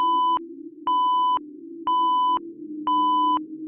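Four evenly spaced electronic beeps mark a phone call ending, each about half a second long with short gaps between, clean and alone over a low hum.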